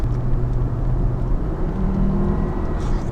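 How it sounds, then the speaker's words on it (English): A 2004 Volvo V70's five-cylinder engine hums with a steady, low droning rumble, holding a constant pitch with a slight rise in the middle, no voices. "Oh man, that engine sounds so good."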